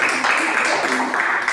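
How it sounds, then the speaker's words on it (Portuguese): A church congregation applauds in a steady, dense wash of clapping that fills the room throughout, with voices mixed in underneath. "Posso ouvir uma salva de palmas ao Senhor?"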